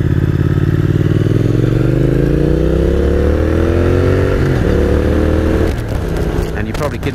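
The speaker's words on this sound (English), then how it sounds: "it's actually the engine noise of this bike. It sounds absolutely beautiful." A 2019 Triumph Speed Twin motorcycle engine pulls hard and loud, its deep exhaust note climbing steadily in pitch as the bike accelerates, then dropping near the end amid rushing wind.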